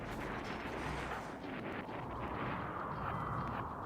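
Turret gunfire in the RimWorld game with the Rimdark 40k mod: dense, continuous rumbling blasts and booms fill the whole stretch at steady loudness, with no speech over it.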